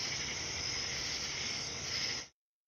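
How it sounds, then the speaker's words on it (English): Insects chirp at night in an outdoor field recording, a dense steady high-pitched trilling wash that stays constant and fairly close before cutting off abruptly. "specifically some beautiful field recordings of insects at night"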